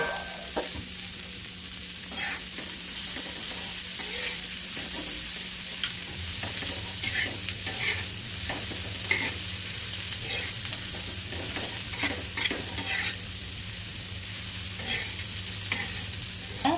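Okra being fried with green chili and salt in a pan, stirred continuously, producing a steady close sizzle with frequent light scraping and clinking stirring strokes throughout, with no talking.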